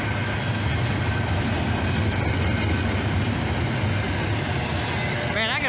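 Intermodal freight train rolling past at close range, a steady dense rumble of wheels and cars with a faint squeal near the end; a voice is faintly present under it.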